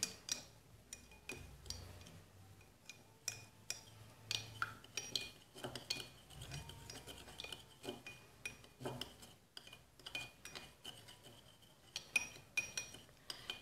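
Olive oil skin-care ingredients being mixed together in a bowl with a utensil, giving steady clinks, scrapes and taps close up, repeating irregularly throughout with no talking.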